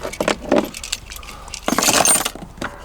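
A bunch of car keys jangles and clinks up close in a few short metallic bursts, with a longer rattling shake near the end.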